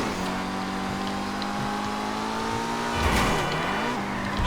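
A tuned ETR1 car's engine in GTA Online holds a steady loud drone, then shifts pitch near the end as the revs drop and recover, with faint tire noise.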